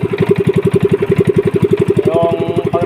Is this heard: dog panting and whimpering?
no